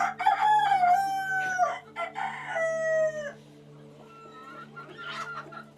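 A rooster crows loudly and close by on a Sri Lankan poultry farm with black chickens, a long drawn-out call followed by a second, with hens clucking softly afterward over a steady background hum.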